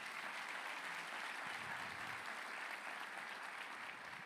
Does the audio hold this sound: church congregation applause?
yes